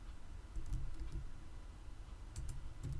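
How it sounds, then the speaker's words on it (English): Soft clicks come from a computer keyboard as a material code is typed into SAP S4HANA software. The keystrokes are faint and scattered over a low, steady room hum. "So I can type here shaft"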